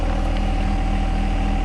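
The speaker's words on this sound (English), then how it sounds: "I meant the little John Deere tractor." A small John Deere compact tractor engine runs steadily and close by, a loud continuous chugging drone with an even rhythmic pulse and faint clatter throughout, working hard while clearing brush and trees.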